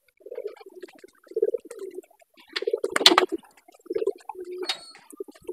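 Pigeons coo in their coop in soft, repeated low bursts with short pauses between them. A few faint clinks and rustles come in around the middle.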